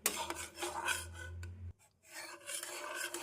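Caramelizing sugar being stirred in a pan for caramel pudding, a steady scraping rasp of utensil against metal that stops briefly partway through, then resumes, with no talking.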